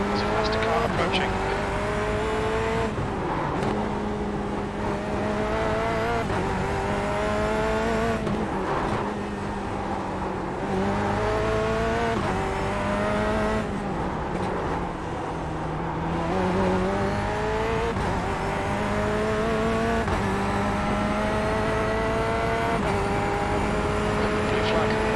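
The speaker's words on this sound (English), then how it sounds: "There's a faster car approaching." A Corvette C8.R race car in iRacing holds a steady, loud engine note close by, its pitch rising and falling through shifts and corners for the whole stretch. A voice talks over it at times.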